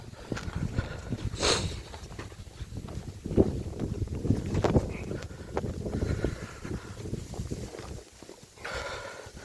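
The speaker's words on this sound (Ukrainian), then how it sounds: "Вітер сьогодні, звісно, дує" Gusty wind buffets the microphone outdoors while fishing, with low rumbling rushes rising and falling throughout, and a faint voice briefly in the background.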